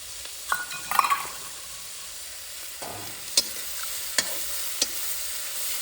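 A vegetable curry cooks in a pan with a low sizzle, broken by a cluster of clattering stir strokes near the start and a few sharp spoon taps against the pan afterward. No one talks.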